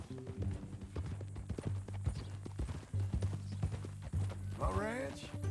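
Hooves of a horse in Red Dead Redemption 2 clip-clop in a steady, close rhythm throughout, with voices talking over them and a brief whinny near the end.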